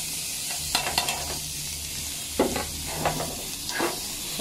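Onion frying in a pan sizzles with a steady hiss, punctuated by a few scraping stirs and light clicks of a utensil, close up and without talk.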